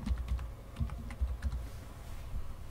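Rapid typing on a computer keyboard, a quick run of close, crisp key clicks in uneven bursts, with no one talking.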